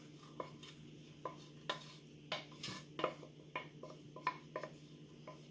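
Lentil loaf mixture being stirred in a bowl, with a series of soft, irregular scrapes and clinks of a utensil against the bowl, close and quiet.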